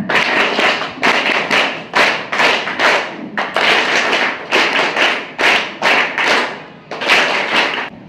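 A group of children claps a patterned welcome for a guest at a school parents' meeting: loud, close bursts of rapid claps in a repeating rhythm with brief gaps between rounds.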